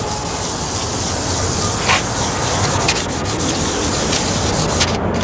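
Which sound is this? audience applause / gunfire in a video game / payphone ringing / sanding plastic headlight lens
sanding plastic headlight lens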